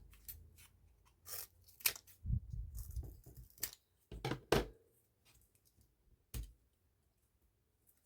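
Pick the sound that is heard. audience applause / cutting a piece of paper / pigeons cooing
cutting a piece of paper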